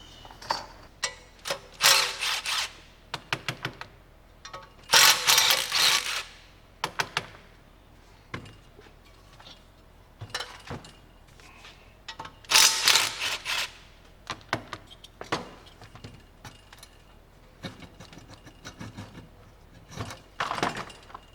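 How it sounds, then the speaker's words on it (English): Metal wrench clicks and clanks while loosening the three intake bolts on a 1950 Willys Jeepster, with sharp ratcheting bursts and scrapes coming in irregular clusters and quiet pauses between them, close up and with no talking. "So I think my first operation is going to be loosening our 3 bolts that hold the intake on"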